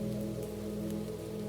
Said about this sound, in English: The drizzle becomes a soft hush.